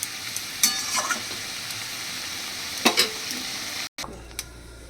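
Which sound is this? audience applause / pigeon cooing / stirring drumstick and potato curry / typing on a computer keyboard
stirring drumstick and potato curry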